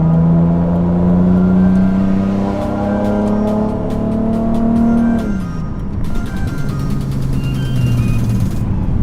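A Porsche engine revs hard, its pitch climbing steadily, dropping at a gear change, then pulling up again. The engine is loud and continuous.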